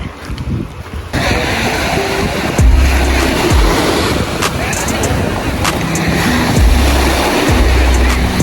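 Sea waves wash in at a beach, with a steady roar of surf, gusty wind buffeting the microphone and occasional low thumps, and voices now and then.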